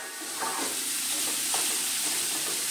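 Onion hitting a hot pan at home, sizzling and frying steadily with a broad hiss and a few stirring scrapes, close and alone without talk.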